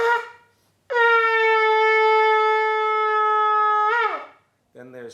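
A shofar sounds one long, steady Tekiah blast of about three seconds, sustained and bright, with a slight bend as it ends. A brief breathy sound comes before it and a short voice follows after.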